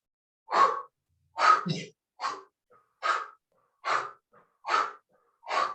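A person blows out breath in short forceful puffs while swinging the arms from side to side, about eight evenly spaced exhalations, close and alone in silence.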